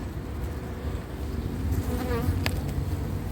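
Honeybees at an opened hive hum in a thick continuous buzz close by, swelling slightly midway, with a few short clicks and scrapes from handling.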